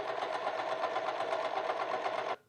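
A sewing machine stitching a seam along the side of high-waisted pleated pants, running in one steady, even burst of rapid needle chatter before stopping abruptly.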